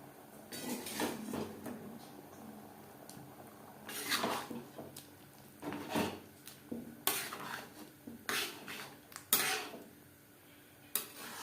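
Fried winter vegetables tipped into a khichuri pot of mung dal and rice, with a run of clanking and scraping from pot and utensil in separate bursts, fairly close and moderately quiet, no talking.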